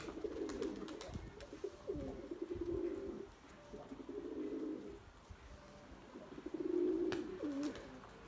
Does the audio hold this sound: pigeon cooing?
yes